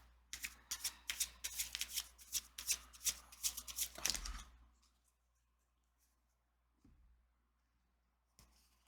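Tarot cards are shuffled in a rapid riffling run for about four seconds, close and soft, followed by quiet with a couple of faint taps.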